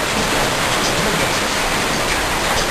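Hail pours down in Qatar as a dense, unbroken roar of pelting ice, loud and even throughout with no gaps.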